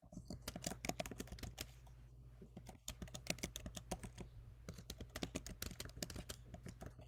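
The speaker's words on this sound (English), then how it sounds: "I just want to say somebody's typing and I can hear it." Rapid, irregular keystrokes on a computer keyboard clatter steadily for several seconds, close and clear over a low constant hum, with a brief pause midway and no talking.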